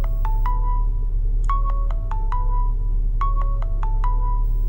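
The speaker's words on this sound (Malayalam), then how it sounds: "മാഡം ഫോൺ അടിക്കുന്നു." A phone ringtone repeats three times, each a quick melodic burst of bright electronic notes separated by short gaps, clear and close over a steady low hum, with no voices.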